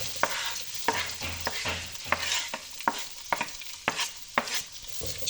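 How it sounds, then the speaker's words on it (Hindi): Shredded chicken fries in about two tablespoons of hot oil, giving a close, continuous sizzle broken by regular sharp stirring scrapes of a spatula against the pan, with no talking. "चिकन को मैं 2 से 3 मिनट तक फ्राई करूँगी।"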